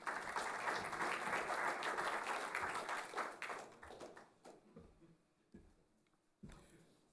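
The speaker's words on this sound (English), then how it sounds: "Video does deserve a clap." Audience at a horse racing industry conference session breaks into sustained applause, a dense wash of many hands that holds steady for several seconds, then thins out to scattered claps and fades.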